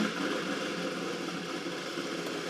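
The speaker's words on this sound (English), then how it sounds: "That sounds like my car, but I guess all cars have the same engine." A car engine idles with a steady low rumble and even hum, constant and unchanging, heard close by without any voices.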